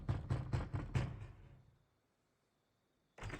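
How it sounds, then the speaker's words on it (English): Knocking on a wooden door in Assassin's Creed Valhalla: five quick, hollow raps in a row, followed by near silence and a brief return of game sound at the end. "Guess I'll knock on this door over here."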